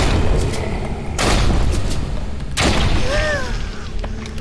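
Gunfire in the VR horror game Propagation VR, two loud booming shots with long rumbling tails over a dense, noisy game soundscape.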